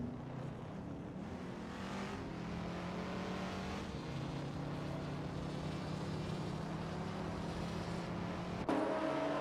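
Race car engines at Le Mans hold a steady, droning roar with a sustained tonal whine, moderately quiet and continuous, without sharp revs or any voices.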